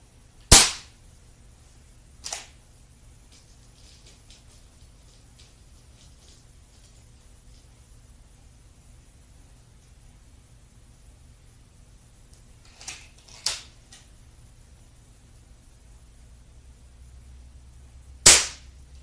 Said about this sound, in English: I'm going to also shoot that piece of clay under it